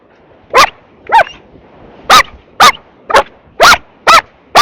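A fearless water dog on a beach barks and yaps in a run of about eight sharp, loud, close calls, spaced roughly half a second apart, with brief whimpery tones between them and no talk.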